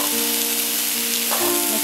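Cauliflower and eggplant sautéing in a pan for a mixed vegetable curry make a brief, even sizzle over a faint background hum, with a small stirring shift near the end and no voices.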